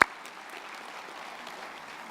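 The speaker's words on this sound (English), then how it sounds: "That even should get another hand of applause." Audience clapping at a university winter graduation ceremony, a brief steady patter of many hands at moderate distance, fairly soft after a sharp opening clap.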